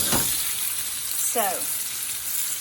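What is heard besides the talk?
shrimp and chicken frying, sizzling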